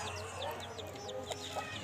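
A rooster offered in a bulk sale of twelve cockerels gives short clucking calls over steady farmyard background noise, close by and moderately loud, with no one speaking.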